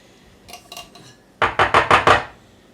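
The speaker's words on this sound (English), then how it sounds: "Clean out the can." Spatula scraping the inside of a can of cream of potato soup in a home kitchen, a few soft scrapes followed by a run of five loud, rhythmic metallic scrapes close up, with no voices.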